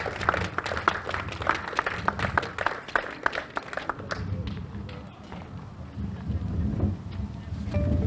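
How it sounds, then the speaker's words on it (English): Onlookers at a CARICOM road race clap for a 10K winner, a scattered burst of applause that thins out and fades into crowd murmur and outdoor rumble. "A round of applause."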